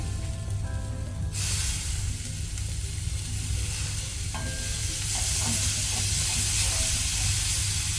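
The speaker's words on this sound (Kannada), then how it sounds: "ಫ್ಲೇಮ್ ಲೋ ಅಲ್ಲಿ ಸ್ವಲ್ಪ ಫ್ರೈ ಮಾಡ್ಕೊಳ್ಳೋಣ, ಮಸಾಲ ಸುಡಬಾರ್ದು." Chicken curry masala and tomato frying in a pan on a low flame, a loud close sizzle with stirring scrapes and a burst of hissing steam, over a steady low background hum.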